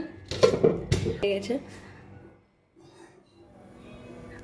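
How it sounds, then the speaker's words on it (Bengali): A metal wok is set down on a stove with a few sharp, close clanks and rattles in the first second and a half, then quiet with faint background noise. "কড়াই বসিয়ে দিলাম"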